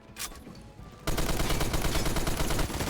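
A light machine gun in the Phantom Forces video game fires a long, loud, unbroken rapid burst after a second of quieter background noise.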